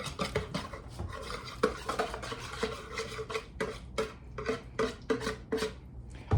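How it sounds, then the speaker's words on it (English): Pumpkin bread batter with pumpkin purée being mixed in a bowl, a steady series of scraping, tapping strokes against the bowl sides, close and fairly loud, with no talking. "And you just mix it. You want to mix it till it's smooth"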